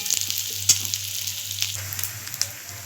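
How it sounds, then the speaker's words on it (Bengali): Onions fry in oil with dried red chilli and bay leaves in a pan, giving a soft, continuous sizzle with light crackles and occasional stirring clicks, close by under a low steady hum. "দিয়ে পেঁয়াজটা একটু ভেজে নেব।"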